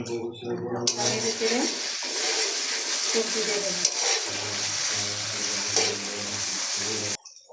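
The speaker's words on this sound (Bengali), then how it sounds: "একটু ভাজি হয়ে আসলে এখানে রসুন বাটা আর জায়ফল এগুলোকে দিয়ে কষাতে হবে" Garlic paste and nutmeg sautéing with chopped ginger in a pan for vegetable rice give a loud, steady sizzle broken by stirring and pan clatter, while a voice talks over it.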